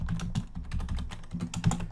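Rapid, steady clatter of computer keyboard keys as payment and billing details are typed in, close and fairly loud, with no talking.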